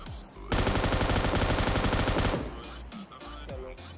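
An M249 machine gun in PUBG Mobile rips out one long, loud, rapid-fire burst lasting about two seconds, followed by a few scattered, quieter shots and impacts.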